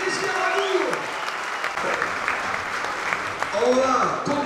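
Rugby supporters applauding the Aviron Bayonnais back row at a season squad presentation, a dense, continuous wash of clapping with an announcer's amplified voice over the start and end.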